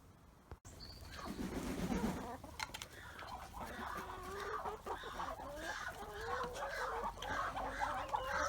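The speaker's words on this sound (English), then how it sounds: "So, chicken and ducks getting on okay." Farm chickens cluck and chatter continuously throughout, a busy flock close by with overlapping calls and steady outdoor background, no speech.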